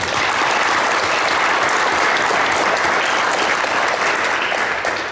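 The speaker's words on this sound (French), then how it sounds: "je vous remercie d'applaudir quelques instants" Audience applause fills a council meeting room, a dense steady clapping that holds at even loudness for about five seconds with no talk over it.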